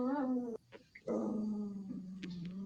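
Dogs whimpering and growling, a drawn-out whining moan that breaks off briefly, then resumes as a lower sustained growl, moderately close with some background noise.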